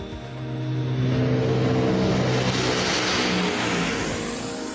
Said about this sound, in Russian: Звук, создаваемый винтами, напоминает рев медведя